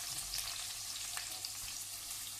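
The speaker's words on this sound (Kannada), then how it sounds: "ಈರುಳ್ಳಿ ಸ್ವಲ್ಪ ಫ್ರೈ ಮಾಡ್ಕೊಳ್ಳಿ." Sliced onions frying in oil in a pan for egg rice, a steady soft sizzle with faint crackles, fairly quiet and continuous with no voices.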